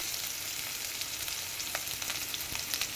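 Chopped onion fries in a pan on a gas stove for bread masala toast, producing a loud, continuous close sizzle with small crackles and pops scattered throughout.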